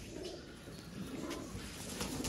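A VIP pigeon with a crest, kept with a golden female, coos softly at close range over a low murmur of background noise.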